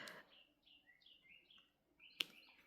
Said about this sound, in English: The birds are very loud outside my